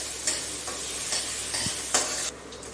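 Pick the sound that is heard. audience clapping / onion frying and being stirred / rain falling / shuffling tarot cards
onion frying and being stirred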